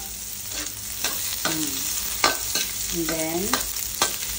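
Garlic and onion sizzle in a pan while a utensil stirs and scrapes at a steady rhythm. The frying noise is close and continuous, with a brief spoken phrase at the start.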